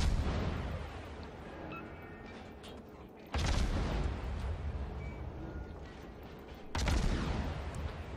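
Naval guns firing in World of Warships, two heavy booming salvos a few seconds apart, each rolling out into a long rumbling decay over a constant low background.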